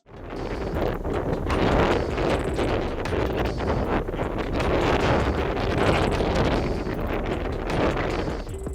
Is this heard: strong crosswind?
yes